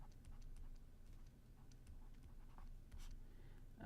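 A solution being written on the board during a math lecture on linear systems: faint, intermittent taps and strokes of chalk or marker over a quiet room hum, with no voice.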